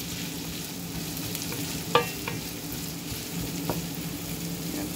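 Beef pinapaitan ingredients sizzle steadily in a hot pan as they are stirred, with a constant close frying hiss and a couple of brief utensil clicks against the pan.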